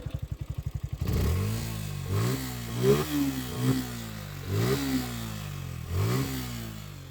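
A second-hand motorcycle's exhaust silencer gives a short idle burble, then revs sharply about five times in a row, each rev rising and falling back, loud and close.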